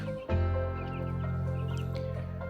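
Chicks clucking and cheeping continuously while eating feed in a brooder over a steady low hum, close by, with soft pecking sounds scattered through.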